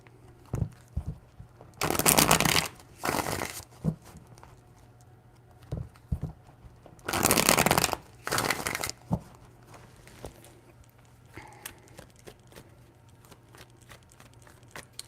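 A deck of tarot cards is shuffled in two paired bursts of riffling flutter, close and crisp, separated by quieter gaps filled with soft taps and handling noises.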